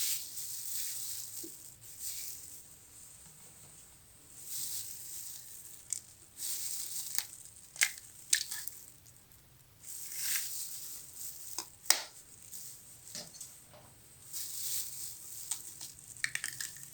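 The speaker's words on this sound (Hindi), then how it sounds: "मायोनीज़ बनाने के लिए सबसे पहले अंडे तोड़ के जग के अंदर डालेंगे" Eggs cracked by hand into a jug for homemade mayonnaise, a few sharp crunching shell snaps and wet crackles spaced apart over a quiet kitchen background, close and fairly faint.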